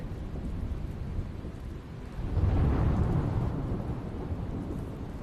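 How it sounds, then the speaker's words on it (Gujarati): Steady heavy rain pours down in the Gadhada area of Gujarat with a low rumbling swell midway, a constant dense hiss throughout and no voices. "ગઢડા વિસ્તારમાં ધોધમાર વરસાદ થયો"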